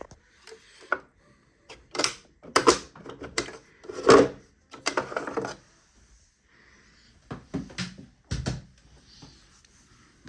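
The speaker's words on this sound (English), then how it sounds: "So I'll just align the openings and I'll screw the bolts in." Bolts being screwed into a Saeco Royal coffee machine during repair, heard as intermittent close scraping, ratcheting and tapping of screwdriver and metal parts in uneven bursts, with brief pauses between them.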